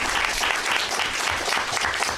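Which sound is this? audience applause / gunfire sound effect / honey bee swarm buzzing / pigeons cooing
audience applause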